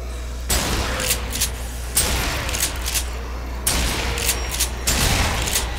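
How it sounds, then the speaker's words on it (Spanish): Explosions and gunfire in the video game Zombie Army Trilogy, several sharp booming blasts spaced a second or more apart with crackling shots between them, loud and close, no talk. "Perfecto, explosión total."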